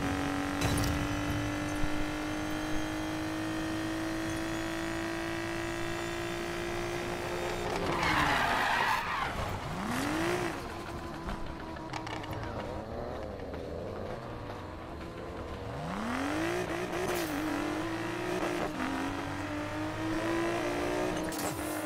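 Cars revving and skidding with tire squeal during a drag race in the video game Need for Speed Payback, with a steady engine drone broken by sharp sweeping screeches and bursts of acceleration, close and loud throughout.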